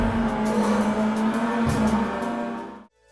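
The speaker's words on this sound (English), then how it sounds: "There are these weird echoey sounds throughout the races, and it constantly sounds like I'm driving in tunnels." Racing game on the PlayStation Classic: a steady droning engine tone with a hollow, echoey, tunnel-like quality, continuous and fairly loud, then cutting off abruptly into near silence.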